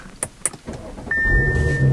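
Full-length roof of an Audi SQ5 opening from inside the cabin, starting with a couple of clicks, then a smooth, steady electric motor whir that holds at a constant pitch.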